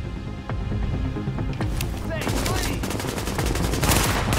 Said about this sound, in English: He's busy shooting at you